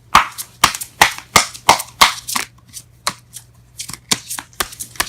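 Tarot cards are shuffled by hand in a rapid series of sharp, close riffling snaps and slaps, about a dozen bursts in uneven rhythm over a low steady hum, with no talking.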